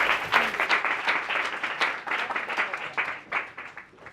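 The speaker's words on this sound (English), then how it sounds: "Let's give them a round of applause." An audience in an education design workshop claps to welcome a presenting team: dense, steady applause from a roomful of people lasting a few seconds, close and fairly loud.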